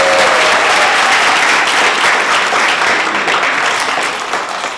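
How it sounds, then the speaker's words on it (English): Loud, dense audience applause for spoken word performers at a school event, continuous clapping that fills the room and tapers slightly toward the end. "Another round of applause for our performers."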